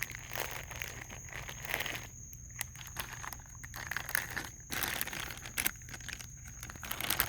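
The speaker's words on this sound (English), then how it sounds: "You want to get them out of the bag yourself?" A bag crinkling and rustling near and close as food is pulled out of it for a raccoon, in irregular crackly bursts over steady low background hum.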